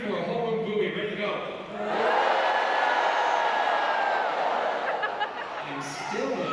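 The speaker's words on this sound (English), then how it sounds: "A whole room booing." A convention panel audience fills a large room with loud, sustained crowd noise, a dense wash of many voices that swells after a brief dip and holds steady.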